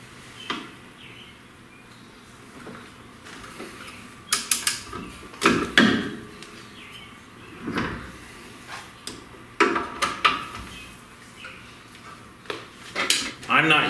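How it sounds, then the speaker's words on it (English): Brake caliper bolts on a V8 Crossfire being broken loose with a wrench, giving scattered sharp metallic clanks and knocks at close range, with no speech. "next what we're going to do is break the bolts on the caliper loose here"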